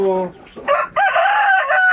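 Chickens of the RTL Basilan breed, a mixed flock of laying hens, cluck close by, then a rooster crows loudly in a long, drawn-out call filling the second half.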